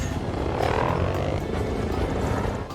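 A helicopter roars in an action-film chase scene, a loud steady rotor and engine drone with rhythmic blade thumping that holds throughout and dips slightly at the end.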